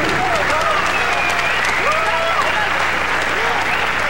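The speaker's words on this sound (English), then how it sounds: "A round of applause for his opponent" A crowd applauds and cheers loudly in a dense, continuous wash at a women's professional boxing match after a title bout ends in a knockout. An announcer's amplified voice and voices in the crowd carry over it.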